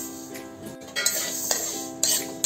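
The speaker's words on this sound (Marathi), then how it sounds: "आता आपण मेथीचे दाणे भाजून घेत आहोत." Fenugreek seeds roasting on low flame in a pan, stirred with a utensil that gives light metallic clinks and scrapes at a steady, near, moderate level, with no talk.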